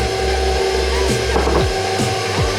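Electric mixer running on low while mixing red velvet cake batter, a steady motor hum with tonal whine and clicks from the beaters, close and continuous.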